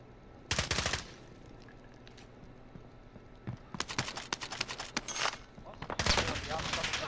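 Gunfire in a Call of Duty Battle Royale match. A short burst comes first, then after a quiet pause faster rattling automatic fire breaks out and is followed by another loud burst, with faint voices in the background.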